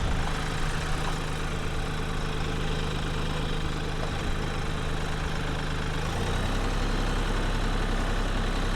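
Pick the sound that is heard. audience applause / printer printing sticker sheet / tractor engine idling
tractor engine idling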